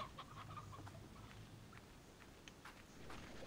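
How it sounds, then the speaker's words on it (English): Two roosters in the video game Slime Rancher cluck faintly in a pen, soft scattered clucks over a low steady background hum. "Okay, so we got 2 roosters in here."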